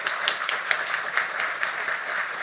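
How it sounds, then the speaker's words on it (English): Audience applause at a Challenger Learning Center of Kentucky capital campaign event, a steady burst of many hands clapping with sharp individual claps standing out, moderately loud and unbroken. "So please give her a round of applause."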